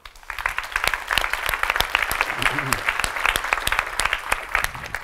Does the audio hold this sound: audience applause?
yes